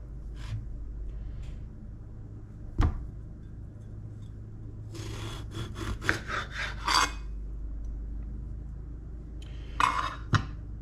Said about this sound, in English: I'm gonna cut it open so you can see what the inside of this one looks like.